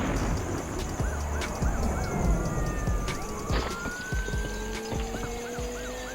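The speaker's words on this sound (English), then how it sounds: "I added police siren effects." A police siren effect wails up and down inside a dark phonk track, layered over vinyl crackle, night ambience and low rumbling beats.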